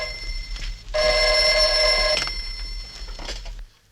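Classic telephone bell ringing loudly and close, a sustained metallic jangle of about a second followed by a fainter second burst, with little else around it.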